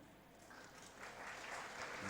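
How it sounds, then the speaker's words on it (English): An audience at a student entrepreneurship summit claps for Moi University, a steady wash of applause from a crowd that swells slightly louder partway through and keeps going. "then you clap for them"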